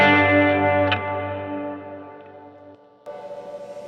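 A distorted, fuzzy electric guitar chord through a fuzz pedal rings out and slowly decays, followed by another fuzzed strum near the end.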